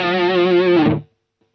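A distorted electric guitar through a BOSS ME-80 multi-effects unit with delay rings out a sustained chord that wavers slightly before cutting off abruptly, leaving near silence.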